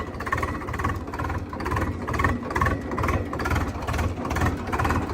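Swaraj tractor engine running steadily in fourth gear, a continuous mid-to-low rumbling drone with rhythmic pulsing, fairly loud and close, no talk over it.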